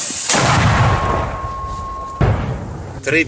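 A loud, booming mortar launch thump followed by a second heavy blast a couple of seconds later, outdoors at a combat position near Bakhmut, with a steady tone and rumbling background.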